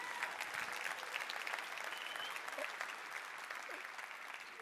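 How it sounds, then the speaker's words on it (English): An audience at a nutrition clubs masterclass applauds, a steady, even wash of clapping that holds at a moderate level throughout without a clear voice on top. "I think that deserves a clap"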